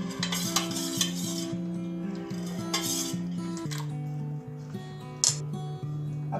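A cleaning solution for a kitchen platform stirred in a metal container, with rhythmic scraping and clinking under a steady tonal hum.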